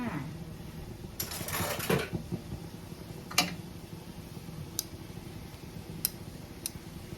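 A steamer pot lid lifts off after beans have steamed, giving a brief metallic clatter and rattle, followed by a few faint, scattered clicks and taps.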